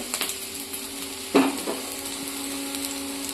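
Vegetables stir-frying over a high flame for veg chowmein sizzle softly in the pan, broken by a few scraping clatters of a utensil against metal, with one louder scrape in the middle.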